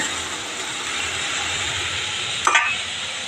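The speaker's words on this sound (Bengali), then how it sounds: "আর এই যে মূলো শাক ভাজা করছি।" Radish greens fry in a pan with a constant, dense sizzle close up and a short scraping knock of stirring toward the end.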